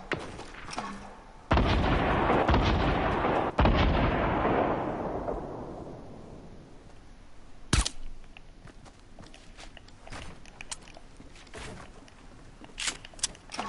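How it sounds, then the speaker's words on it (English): Gunfire in the Fortnite video game: a dense burst of loud shots early on that fades into a decaying rumble, followed by scattered single sharp shots at varying distances. "I still already hear shooting"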